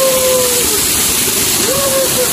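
Cold natural stream water rushes in a continuous, loud, close-up wash of noise, with a faint whistling tone that drifts above it.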